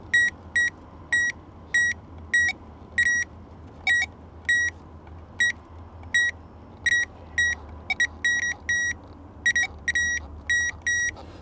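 Short electronic beeps from a LOADpro and Power Probe circuit tester sound in irregular bursts, some quick pairs and runs, over a low steady hum; no one speaks.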